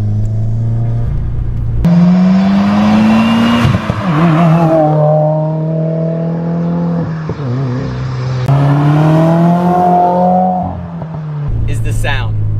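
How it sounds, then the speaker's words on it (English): A stage 2 tuned turbocharged car engine accelerating up through gears from the cabin, with loud induction roar, turbo whoosh and a louder aftermarket exhaust rising in pitch and dropping at each shift, with no talk over it. "The induction noise, the turbo noises, the exhaust is a little bit louder."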